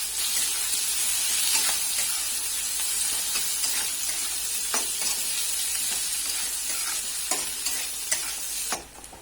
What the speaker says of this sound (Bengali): এই যে বেগুন ভাজার তেলেই পেঁয়াজ কুচি দিয়ে দিচ্ছি।